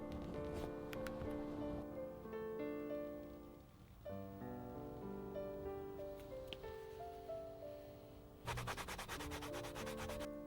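A leather edge is rubbed and burnished with Tokonole after the corner is bevelled, giving a steady close rubbing with a harsher burst near the end.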